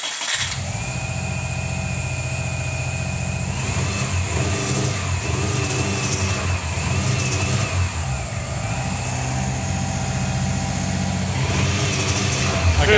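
A car engine freshly fitted with a turbo runs loud and close throughout, holding a steady idle and then revving up in several surges, with a rough, uneven tone and brief voices in the background.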